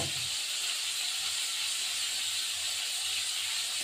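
A little water poured into hot spice masala in a pan sets off a loud, continuous steam hiss that holds steady throughout, close up and with no voices.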